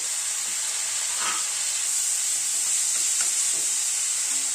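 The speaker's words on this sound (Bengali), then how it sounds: "টমেটোর সাথে পুরো মশলাটাকে একবার একটু কষিয়ে নেব।" Chopped tomatoes and ground spices sizzle steadily in a hot pan, a close, continuous frying hiss with faint stirring scrapes and no voices.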